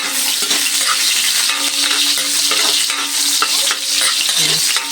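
Banana heart adobo fries loudly in a wok, a dense constant sizzle with frequent scraping and stirring strokes of a utensil against the metal, close and continuous throughout.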